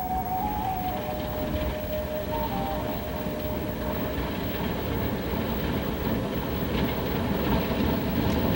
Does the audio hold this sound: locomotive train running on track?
yes